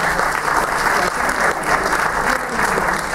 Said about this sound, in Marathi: त्यांच्यासाठी सुद्धा एकदा जोरदार टाळ्या होऊ द्या.